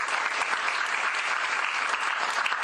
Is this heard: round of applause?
yes